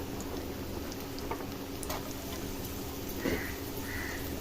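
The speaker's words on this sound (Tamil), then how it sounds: "வெங்காயம் வதங்கிடுச்சு இப்போ பூண்டு போட்டு வதக்கிடுங்க" Onion and garlic sautéing in a pan give off a steady, even sizzle and hiss that holds throughout, with a slight bump near the end.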